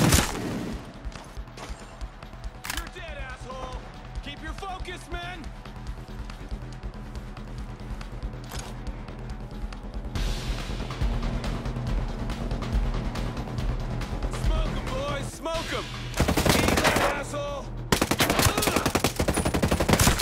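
Automatic and single gunshots crack repeatedly in Ghost Recon Breakpoint, with dense bursts that grow louder and heavier toward the end, and a voice shouting commands at times.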